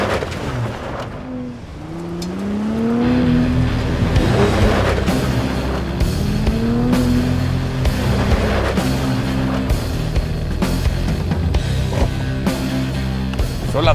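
A Ford F-150 Raptor driving off-road through the desert at midday, its engine droning loud and steady with rising revs and gear changes, heard up close with no talking.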